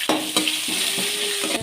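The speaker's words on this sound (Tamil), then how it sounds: "பூண்டு இதெல்லாம் நல்லா எண்ணெயிலே புரிஞ்சிட்ருக்கு" Crushed garlic frying in oil for a river crab gravy crackles with a bright, steady sizzle, broken by a few quick knocks and scrapes of a ladle against the pan.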